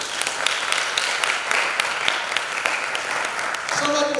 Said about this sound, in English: Alright, clap for yourself, everybody.